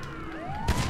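A fire truck siren in GTA V Online wails with rising, sweeping electronic tones, moderately loud and steady, joined near the end by a sudden thump of game noise.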